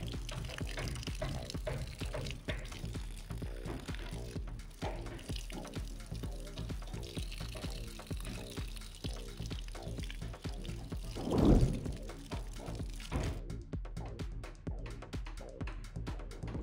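Water pours heavily over a Poco X7 Pro 5G phone in a drench test, a continuous splashing stream with a brief louder gush near the end, under a repetitive musical beat.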